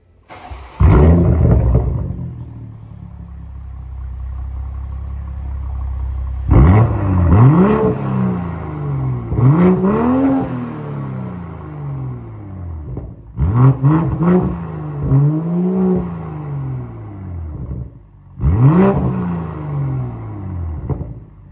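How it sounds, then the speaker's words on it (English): BMW M240i with a muffler delete, its exhaust revved several times in close, loud bursts, each swelling and falling back to a deep rumbling idle between pulls. "I currently do have a muffler delete, so it is pretty loud"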